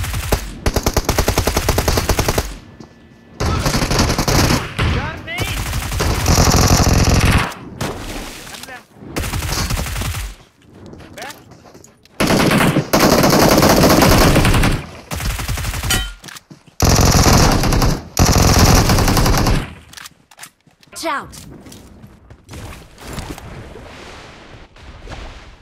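Rapid bursts of automatic gunfire in PUBG Mobile come in loud, dense clusters separated by short gaps, with a voice talking at times.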